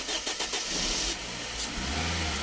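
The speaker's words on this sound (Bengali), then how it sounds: "আমরা গাড়িটা স্টার্ট করব" A 2013 Toyota Hiace Super GL van with its original 2000 cc VVT-i engine cranks and catches, settling into a smooth, steady idle close by.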